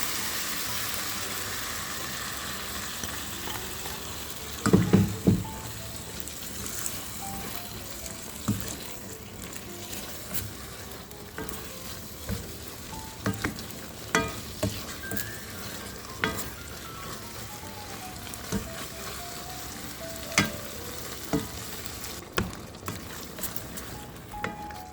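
Chicken stir fry sizzles steadily in a pan with sauce, a constant frying hiss broken by intermittent scrapes and clacks of a utensil stirring, close and moderately loud.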